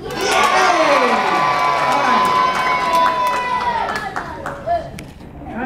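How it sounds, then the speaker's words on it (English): Children at a library event cheer loudly together, a burst of high shouts and screams with clapping that holds and slowly fades out. "I want to hear a cheer."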